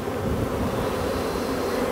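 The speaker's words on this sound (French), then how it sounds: "C'est des abeilles qui cherchent l'odeur." Bees swarm around an opened beehive, a steady dense buzz that holds at an even level throughout, close and continuous with no talk over it.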